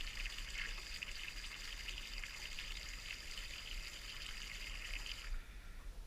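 An aerator pump bubbles water inside a tank in a workshop, producing a steady close hiss and fizz of bubbling that runs continuously and eases slightly near the end.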